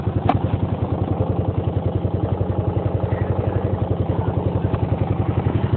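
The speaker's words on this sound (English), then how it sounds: "A Honda dirt bike, 86 Honda." A 1986 Honda dirt bike engine idles steadily nearby on a cold, dark evening, its low, even thumping pulse holding a constant rhythm from start to finish, with a faint brief tick early on.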